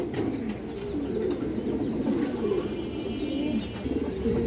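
Female running-line racing pigeons coo in a steady, overlapping chorus that stays fairly close and even in loudness throughout.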